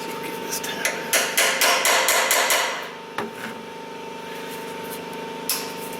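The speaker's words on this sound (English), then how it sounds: "Actually, let me grab a hammer." A hammer strikes metal in a quick run of sharp, ringing blows, then a pause, one more hit, and a final tap after a stretch of quieter hum, while working on a Nissan Frontier's fast idle solenoid.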